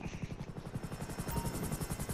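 Helicopter in a GTA game, its rotor thumping in a steady rapid rhythm with a turbine whine, loud and close throughout.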